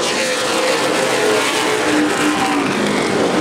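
Race cars roar around Anderson Speedway in a CRA Super Series late-model race, a loud, dense engine drone close by with a rising and falling pitch as cars pass on the straightaway.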